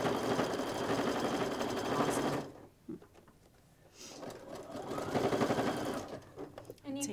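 A sewing machine stitches binding onto a quilt in two sustained whirring runs separated by a brief pause with a few clicks, close by, with faint talk in the background.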